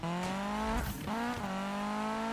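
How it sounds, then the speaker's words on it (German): A car engine in the racing video game Need for Speed sounds odd, with a strained, droning tone that dips and wavers and a brief tire-squeal or scrape in the middle, loud and with no voices. "Aber warum der Motor so eine Faxen macht, das weiß ich ja nicht. Warum der sich so komisch anhört."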